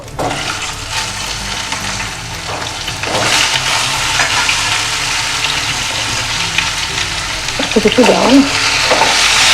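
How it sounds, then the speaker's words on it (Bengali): Cauliflower florets and potato pieces frying together in a pan for a bhetki fish curry, a loud, dense sizzle close by with stirring and scraping that grow busier toward the end, with no voices. "এবার আমি এটার মধ্যে ফুলকপিটা আর আলুটা একসাথেই ভাজা করে নেব"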